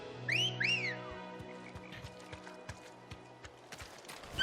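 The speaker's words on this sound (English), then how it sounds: "Hold R3 while in the field to summon Ambrosia, and X to mount the Chocobo." A chocobo mount trots in Final Fantasy XVI with a rhythmic series of light clip-clop footfalls at an even pace, opened by two bright chirping bird-like calls, over a faint game soundscape.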